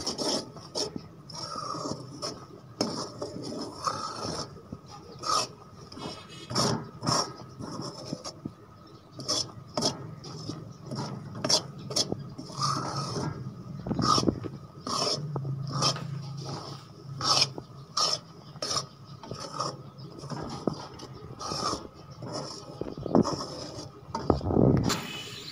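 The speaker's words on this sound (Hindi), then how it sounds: "इसमें चम्मच हिलाते रहना है" A spoon works steadily through a thick semolina barfi mixture in a pan, giving continuous rough scraping and rasping strokes in an irregular rhythm, close and fairly quiet, with no voices.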